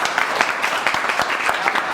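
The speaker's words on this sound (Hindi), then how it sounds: "ताली बजाओ यार इनके लिए" Applause from a group of students in a technician training classroom, a brisk run of many hands clapping together at a steady rhythm, close and lively, with a voice faintly underneath.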